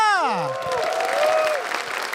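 Stand-up comedy audience applauding comedian Oki Rengga, opening with a sliding vocal whoop or cheer before a moderate wash of clapping from the crowd carries on beneath it.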